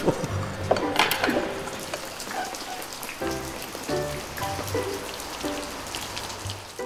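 Rain falls steadily at a Buddhist temple during a templestay, a soft, dense patter of drops on surfaces, with occasional clinks of dishes and utensils nearby.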